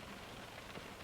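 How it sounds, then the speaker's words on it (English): Rain falls steadily on a car, a dense, even patter drumming on the body and roof throughout, with no voices. "If you can hear the rain falling on my car"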